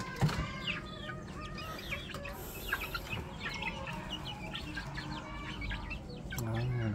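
Chickens on a small poultry farm cluck and chirp steadily at moderate distance, with scattered bird calls over a low background hum and no talk.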